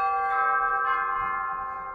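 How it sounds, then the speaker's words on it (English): Chimes stop on the pipe organ of Saints Simon and Jude Cathedral, a single bright struck tone with rich sustained overtones ringing out and slowly decaying in the reverberant church. "You also have the chimes up there."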